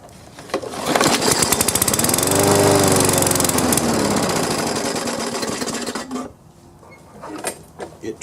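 A lawn mower's small engine sputters and catches after the primer bulb is pumped, running rough and noisy for several seconds before dying back. It is loud, close and alone.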